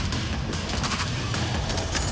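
An auto turret fires in the zombie shooter World War Z Aftermath, producing a dense, continuous rattle of rapid gunshots with crashing impacts, loud and close for about two seconds.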